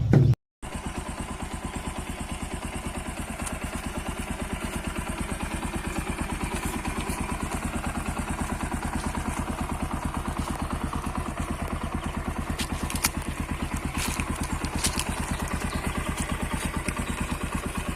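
A second-hand Bajaj Pulsar motorcycle idles steadily and close by for the whole stretch, with an even, fast engine putter and a little mechanical clatter. A brief thump comes at the very start.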